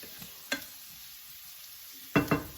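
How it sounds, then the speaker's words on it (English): Sliced zucchini, bacon and onions sauté in a hot pan, giving a low steady sizzle broken by a few scraping stirs, close and with no voices. "I'm going to saute these a little bit"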